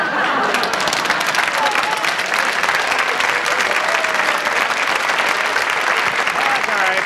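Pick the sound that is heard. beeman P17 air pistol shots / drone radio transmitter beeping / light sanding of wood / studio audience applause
studio audience applause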